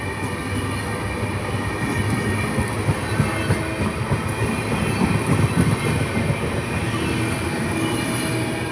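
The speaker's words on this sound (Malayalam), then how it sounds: "ട്രെയിൻ സ്പീഡ് കൂടി" A train rumbles along steadily at close range while speeding up at a railway station, wheels clattering on the rails with a continuous loud roar and faint squeal.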